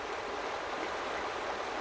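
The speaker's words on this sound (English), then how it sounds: "Apparently we followed the river?" Steady broadband rush of a flowing river in the hunting game Cabela's Big Game Hunter 2005, a continuous even wash of water at moderate level with no breaks and no voices.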